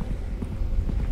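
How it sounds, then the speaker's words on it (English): Footsteps in a horror video game, a soft series of dull thuds in an uneven rhythm, low and muffled against a steady background rumble. "Footsteps."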